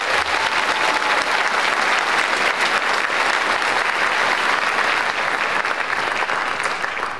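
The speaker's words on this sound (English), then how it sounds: "Let's give them a round of applause" Loud, steady applause from an audience at a middle school Stepping Forth ceremony, honoring the marching band, continuing without a break for the whole stretch with no voices over it.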